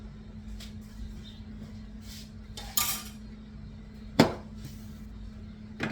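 A hot pan of meatball drippings is set down on a surface with a couple of faint, hard clunks over a low steady kitchen hum.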